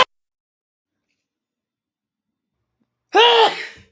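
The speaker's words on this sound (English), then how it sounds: "you mute before and after the sneeze" A single sharp sneeze bursts out after about three seconds of near silence, close and loud, its tone falling as it trails off quickly; a brief click opens the recording.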